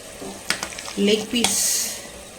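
Chicken leg pieces go into a pan of frying tomato masala with a couple of sharp clinks, then a burst of sizzling and stirring that settles into a steady fry, close by.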